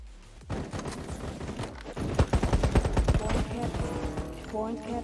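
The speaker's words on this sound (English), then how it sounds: "Shotgun." Shotgun blasts in the Battle Prime video game, a burst of several sharp reports in quick succession over steady game background noise, with players talking over it.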